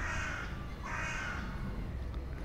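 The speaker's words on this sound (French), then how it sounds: "J'entends des corbeaux." Crows call near graves in a cemetery beside a composer's tomb, two harsh drawn-out caws in succession over a low background rumble, no talk.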